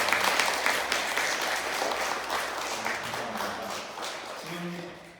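A church congregation at a Korean Sunday service claps in welcome, steady applause filling the room and gradually thinning toward the end, with a few voices faintly audible beneath.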